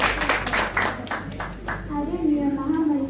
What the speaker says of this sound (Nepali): सम्पूर्ण उपस्थित महानुभावहरूलाई उहाँहरूलाई तालीले एउटा इन्करेजमेन्ट